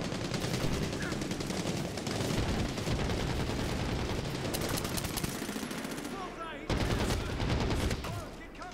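Gunfire in the shooter video game Medal of Honor Warfighter, rapid automatic bursts and dense volleys firing almost continuously, loud and close, with brief pauses and someone talking over the shooting.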